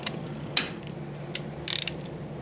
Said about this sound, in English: Put the ratchet back on the extension.